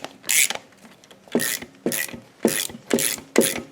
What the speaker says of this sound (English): let me grab my wrench and oh my goodness, there we go. And start threading it on.